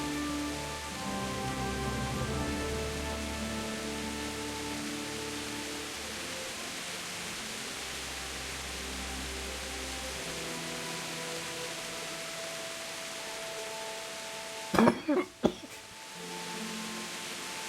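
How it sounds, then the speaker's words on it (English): Steady rain falls as a soft, even hiss in the Kingdom Come: Deliverance medieval game, with a faint tonal music bed underneath and a short loud thump-like clatter near the end. "And it is super rainy here"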